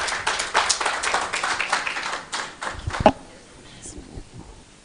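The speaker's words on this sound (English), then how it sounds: "Let's give a round of applause" Round of applause from a conference audience at a medical refresher course, a dense run of clapping that tapers off after about three seconds into a quieter room with faint murmuring.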